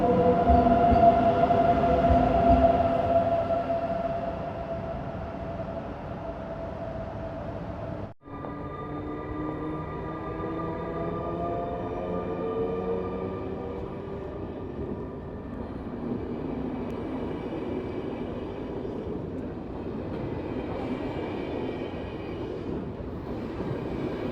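The Golden Pass Express train runs through Interlaken, Switzerland, with a steady rumble of wheels on rails and tonal whining and squealing that shift as it passes. A brief drop in the middle breaks a continuous, moderately loud roar.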